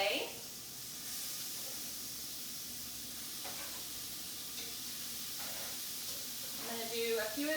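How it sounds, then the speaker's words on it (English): Burger patties sizzle steadily in a hot pan, a constant frying hiss with faint kitchen clinks and brief background voice. "You can hear the sizzle right away."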